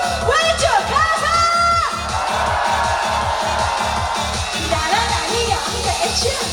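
A concert crowd at the outdoor Seonbawi Haha festival shouts and whoops on cue over a steady, thumping loud rhythmic beat, with high yells rising in bursts near the start and again toward the end.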